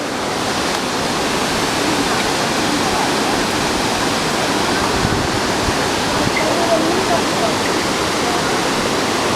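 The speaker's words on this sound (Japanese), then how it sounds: "これが白ひげの滝です。" Shirahige waterfall roars as a steady, dense wash of falling water, loud and continuous throughout with no clear voices.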